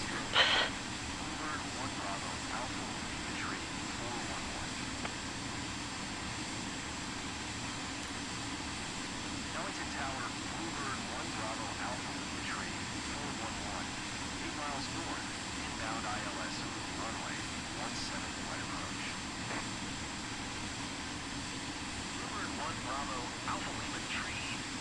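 An airliner in Microsoft Flight Simulator 2024 descends to land, its steady jet engine whine and cabin air roar holding at a low, even level throughout the approach with no change in pace.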